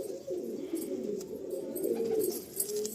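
Madrasi pigeons coo in a low, warbling, continuous murmur close by, with soft rustling and faint higher sounds around them.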